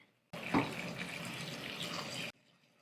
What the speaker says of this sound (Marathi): आता यामध्ये आपल्याला गरम पाणी घालायचं आहे